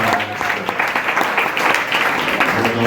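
Brief, loud burst of audience clapping for debate participants, dense and steady across a few seconds.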